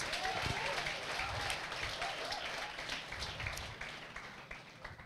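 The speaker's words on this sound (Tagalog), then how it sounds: "Pumalakpak yung gusto ng blessed." A congregation at a Filipino church service breaks into steady, dense applause that stays loud and continuous, then tapers slightly toward the end.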